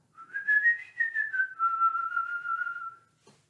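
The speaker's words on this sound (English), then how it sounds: "Or you can even whistle" A single person whistles a wavering melodic tune, clear and close, gliding up and then settling into a long, slowly falling note.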